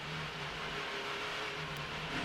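NASCAR Busch Series race cars at Dover rolling to full throttle as the pace car pulls off, a low steady engine drone, fairly faint and distant, with no voices.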